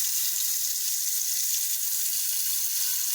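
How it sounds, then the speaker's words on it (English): Water pours into a cooking pot as a steady, even, hissing rush that runs through the whole clip with no talking. "I'm going to put some water in this pot and oil in this pot."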